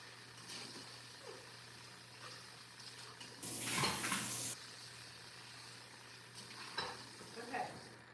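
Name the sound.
washing dishes in kitchen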